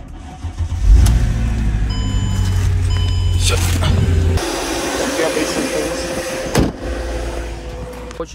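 A Chevrolet Malibu, picked up from a Manheim auction lot, cranks and its engine catches close by around the one-second mark, then runs with a steady low rumble for a few seconds before it drops away amid voices and outdoor noise.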